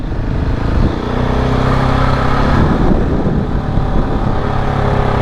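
KTM 690 dual sport motorcycle engine while riding, a loud close steady drone with wind rush, rising briefly near the middle and holding throughout, no talking.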